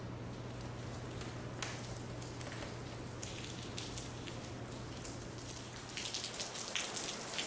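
Steady rain falls on an outdoor patio, a constant dense patter with occasional louder drops and a brief heavier burst near the end, continuous and moderately close with no talking.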